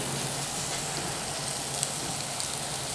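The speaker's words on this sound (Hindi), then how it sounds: "फ्राई कर रही हूँ" Aloo kababs, potato patties, frying in a pan, giving a steady, dense sizzle that stays close and even throughout with no pauses.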